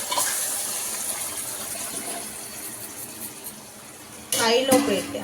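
Water pours and gushes into a pan of cooked mutton, then a louder, splashier burst of liquid near the end.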